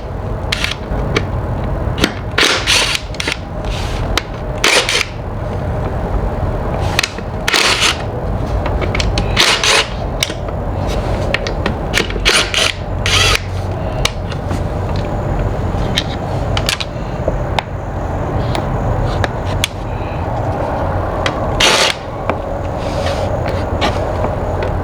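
Bolts are removed from a cover on a 2019 RAM 2500 6.7 Cummins engine while the CCV filter is being changed. Rapid metallic clicks and rattles of a ratchet wrench come in irregular bursts, close and loud, over a low background hum.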